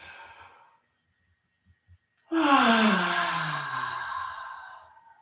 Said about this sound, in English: And then let's take a big yawn